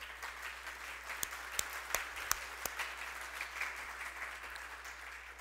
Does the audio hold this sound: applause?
yes